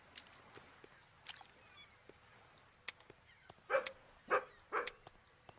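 A dog in the video game Bilkins' Folly barks in a few sharp bursts near the end, following scattered softer yips and clicks over a quiet background.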